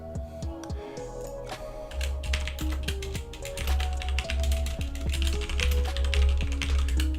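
Quick bursts of keystrokes on a computer keyboard, close and clicky, over a steady low hum and faint tonal background.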